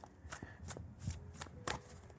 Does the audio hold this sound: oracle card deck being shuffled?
yes